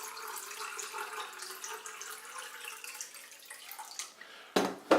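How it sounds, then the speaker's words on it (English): Filtered water from a Brita-type filter runs steadily into a mug, a continuous close splashing fill for several seconds, ending in a couple of louder knocks and splashes as the mug is handled. "Fill the mug with water. This is filtered water, not tap water, from a brighter water filter."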